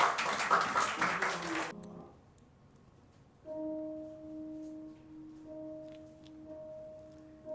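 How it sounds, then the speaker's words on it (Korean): A church congregation gives brief welcoming applause for a missionary at a testimony service, a dense burst of clapping that stops after under two seconds, followed by quiet room tone and sustained tones. "오실 때 우리 환영의 박수,"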